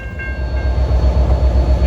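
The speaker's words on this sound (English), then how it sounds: "here at Ramsey at 352 is train 1113 from Hoboken to Suffern" An NJ Transit commuter train from Hoboken to Suffern pulls into Ramsey station during the afternoon rush, its steady, loud, close rumble rolling with a rhythmic low pulse and faint high tonal whines above.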